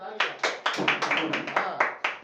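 Several sharp hand claps in a steady rhythm, close and fairly loud, about nine in quick succession.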